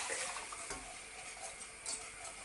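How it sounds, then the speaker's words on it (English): Milk is tipped into sizzling flour and whisked, making a continuous bubbling sizzle with liquid stirring and a few soft clinks, steady and close, no voices. "The flour's been sizzling for a minute, so tip in the milk."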